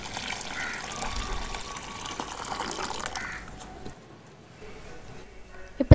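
Hot water poured over goat intestines being cleaned for a gravy, a steady gushing splash for about four seconds that cuts off, leaving faint handling noises.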